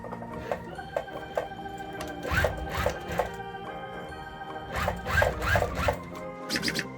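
A sewing machine stitches a dog's pinafore dress in short repeated bursts, close and fairly loud, with brief pauses and clicks between runs.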